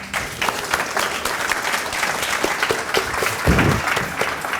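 A lecture-hall audience at a college event claps for a couple asked to stand, a lively crowd of hands with individual sharp claps popping out and a thump near the end, no speech.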